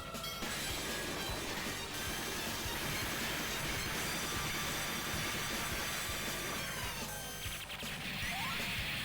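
Trains in an arcade shooter video game rumble and clatter continuously, with metallic clacking, squealing wheels and crashing impacts. The layered game audio is loud and dense throughout, with no speech.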